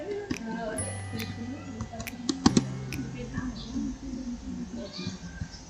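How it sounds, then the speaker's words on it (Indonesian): Someone types a git command on a computer keyboard in quick, soft clicking bursts with a few sharper key presses, close and moderately quiet under a low background hum and some faint talk. "Selanjutnya kita mengetik perintah git remote add"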